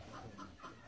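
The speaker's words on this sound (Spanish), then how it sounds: "Me atravesó una gallina que andaba volando ahí" Clucking from a hen flying across a path, a few short squawks repeating across the second, near and fairly loud over steady background noise.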